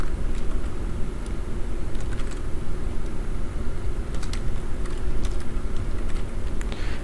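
Fast, steady typing on a computer keyboard while entering text in Photoshop, close and loud over a constant background hum, with no voices.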